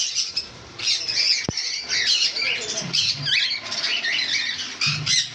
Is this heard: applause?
no